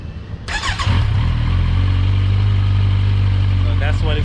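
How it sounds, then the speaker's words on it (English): A Kawasaki Z900 motorcycle with its stock exhaust starts up loudly and close by, then settles into a strong, steady idle with a few brief revs near the end. "I'm going to show you how to and what the bike sound like with the exhaust"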